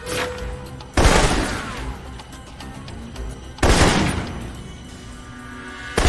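Assault rifle fire in the Alpha Protocol video game, two loud sharp bursts of shots, each tailing off into echoing decay, with quieter game ambience between them.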